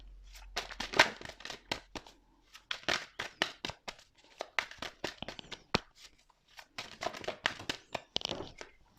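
A deck of oracle cards shuffled and handled during a tarot-style reading, with crisp, papery riffles and slaps in quick bursts, close and fairly quiet, with brief pauses between flurries.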